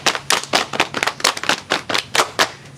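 A classroom group of students does a rhythmic 'tepuk' clapping routine during a group guidance session, crisp claps landing in a patterned beat of bursts and pauses, close and loud with no talking.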